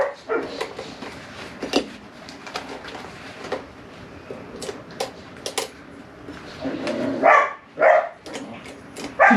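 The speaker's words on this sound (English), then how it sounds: "You hear my dogs barking?" Several dogs bark in short, sharp bursts indoors at a home sewing session, the yips and barks scattered across the stretch and louder near the end, with no talk over them.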